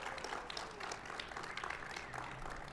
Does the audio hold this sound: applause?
yes